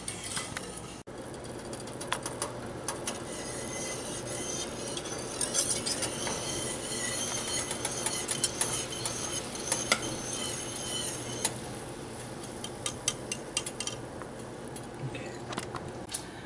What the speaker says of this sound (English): Now mix this all together, and then we're going to take it over to the stove